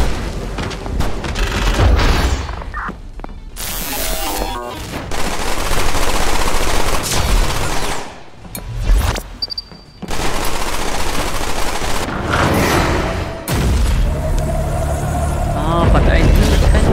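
Gunfire and explosive booms from the sci-fi shooter Black Future '88, dense bursts of shots and heavy impacts that hammer almost continuously, with brief gaps, loud and close throughout.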